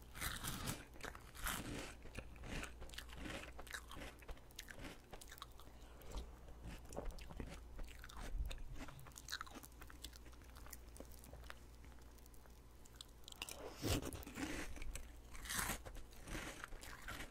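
Crunchy rice honey ring cereal eaten with milk, close and binaural, with a steady stream of crisp bites and chewing crunches running throughout, a little louder near the end, and no talking.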